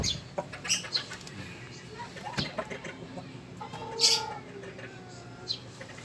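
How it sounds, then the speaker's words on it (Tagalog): Sebright hen clucking in a small backyard chicken coop while laying an egg, soft intermittent clucks and rustling with a sharper call near the middle, close and fairly quiet. "umakyat ulit si Bright. Nangingitlog na naman."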